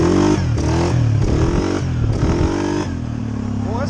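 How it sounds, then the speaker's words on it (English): A 2020 Suzuki KingQuad 750 ATV engine revs loud and close, a throaty roar rising and falling through several throttle blips, with some clattering from the machine on dirt. "The sound of that motor, dude, it sounds just like my 500, but it's got more power"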